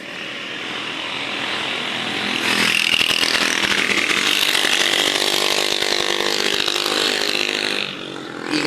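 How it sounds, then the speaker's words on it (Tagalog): Motorcycles on a street: a loud, buzzing engine roar swells and holds steady, close by, with a high whine layered on top before easing slightly at the end. "Ingay yung mga motor."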